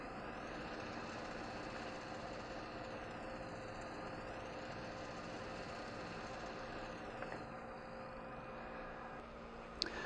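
A ThunderBolt laboratory instrument shakes at 900 RPM, giving a faint, steady mechanical hum and whirr with a slow sweeping tonal wobble and a small click near the end.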